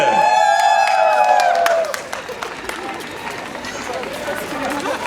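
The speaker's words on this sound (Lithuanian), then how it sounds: "Plojimai Kregždutei, negailėkime." A festival crowd applauds and cheers outdoors, dense clapping at first that thins out, while a voice speaks over an amplified announcement.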